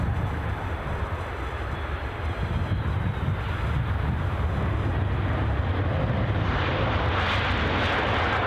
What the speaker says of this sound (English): Which will be a Ryanair 737 from Cork.